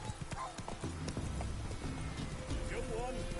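Horse hooves clip-clopping in The Witcher 3, a steady trotting rhythm close by with a brief whinny, running under game sounds and a voice.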